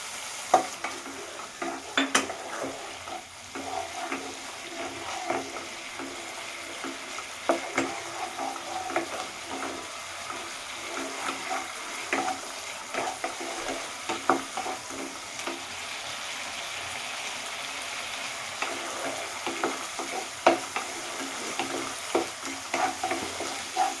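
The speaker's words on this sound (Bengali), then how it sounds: "এবার মশলাটা কষানো অল্প অল্প জল দিয়ে কষাতে হবে" A spice paste for a mustard-based bata fish curry is sautéed with splashes of water. It gives a continuous close sizzle with frequent spatula scrapes and clacks against the pan in an uneven rhythm, and no one speaks.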